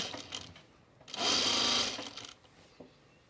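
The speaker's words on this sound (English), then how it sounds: "Bobbin is winding." A sewing machine winds a bobbin in a short, loud burst of steady whirring, bracketed by quieter handling noise, while a dress is being sewn.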